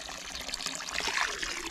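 Water runs steadily into an outdoor fountain basin after a blockage is cleared, a continuous splashing trickle and gush heard up close with no voices.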